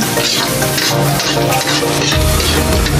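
Garlic fries loudly in a pan for squid adobo, a dense close sizzle with stirring scrapes, continuous and without talking.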